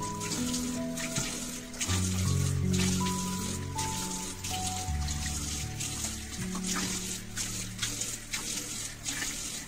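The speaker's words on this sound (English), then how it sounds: "I-rinse mo siya ng warm water." Warm water running and splashing steadily from a tap while a face is rinsed, a close continuous patter with no talking.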